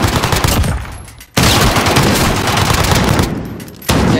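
Loud, rapid automatic gunfire rattles in a survival video game, two long dense bursts split by brief pauses, with no talk over the shooting.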